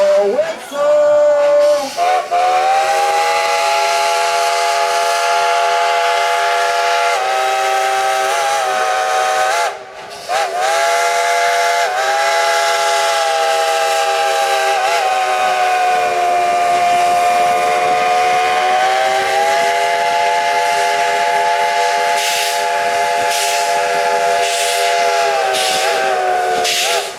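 The Dollywood steam train sounds a long, loud multi-tone whistle that holds almost without a break for nearly half a minute, with hissing steam underneath and a brief dip partway through.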